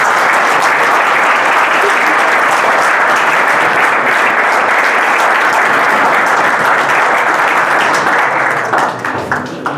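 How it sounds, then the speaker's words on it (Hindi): An audience at a fitness academy's opening ceremony claps loudly and continuously as the principal is honoured, a dense wash of applause that thins into a few last scattered claps at the end. "जोरदार ताली बजनी चाहिए।"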